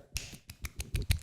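A one-handed clapping trick in which a very flexible hand slaps against itself, making a quick series of about seven sharp, close, snap-like claps in an uneven rhythm.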